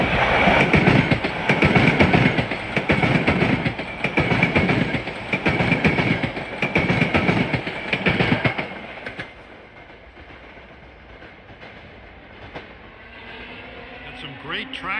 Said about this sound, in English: Some great track sound here.